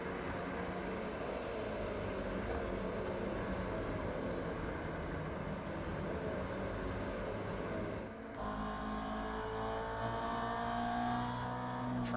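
A Toyota GR86 Cup race car drives around Virginia International Raceway, its engine droning steadily with a broad, rough roar, then a brief dip and a shift to a higher, rising note as it accelerates; no talk.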